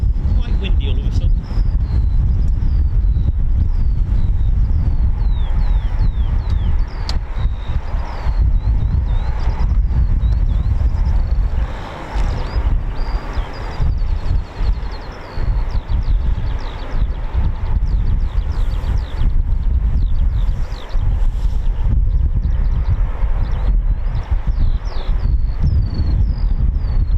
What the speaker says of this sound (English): it's got quite windy all of a sudden.